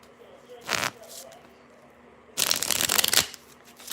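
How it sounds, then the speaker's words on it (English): Tarot cards are shuffled in two bursts, a short riffle followed by a longer, louder crackling riffle, close up, with a quiet voice briefly between. "I've been shuffling these cards for you."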